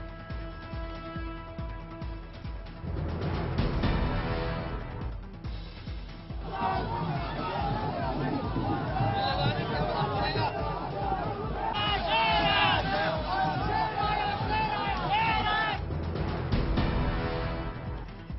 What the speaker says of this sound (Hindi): आया आया शेर आया की गूंजे नारे